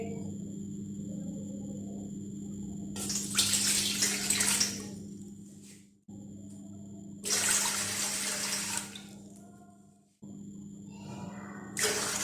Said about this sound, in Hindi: सबसे पहले हम इसमें 3 कप पानी के ऐड करेंगे।